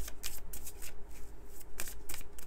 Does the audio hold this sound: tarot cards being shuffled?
yes